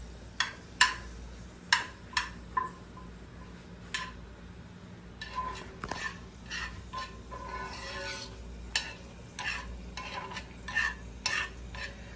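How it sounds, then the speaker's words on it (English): Chili sauce for beef birria sautéing in oil in a pan, a soft low sizzle under repeated sharp clicks and scrapes of a utensil stirring against the pan, spaced irregularly across the clip. "You just saute it up."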